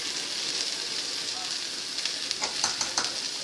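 Okra sizzles steadily as it fries in a pan with water added, a broad hiss with occasional louder crackles and pops toward the end.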